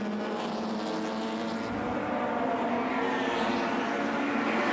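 A pack of Mini racing cars at the Goodwood Members' Meeting Whitmore Trophy race produces a continuous, loud, droning engine roar that holds steady throughout.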